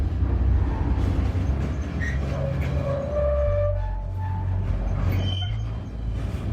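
A train rolls with steel wheels on steel rails, a loud continuous low rumble with thin squealing tones rising above it, close and without speech.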